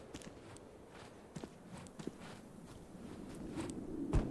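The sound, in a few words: footsteps in the video game MISERY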